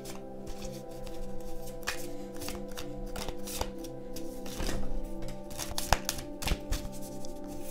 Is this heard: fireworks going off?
no